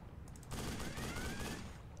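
Boat-mounted machine gun in the naval game GunFleet fires a quiet, continuous rattling burst lasting about a second, over steady engine and water noise.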